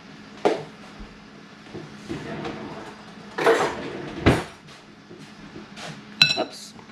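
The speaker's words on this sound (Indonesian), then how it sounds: "Kita aduk ya." Utensil scraping and clinking in a pan while food is stirred, with a few sharp metallic knocks and scrapes over soft background voices and kitchen noise.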